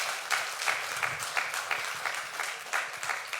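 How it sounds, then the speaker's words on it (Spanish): A church congregation applauds during a Spanish-language service, with repeated clapping bursts forming a steady, loud, dense wash of applause that stays even throughout, with no talk over it. "Démosle un aplauso al Señor en esta mañana."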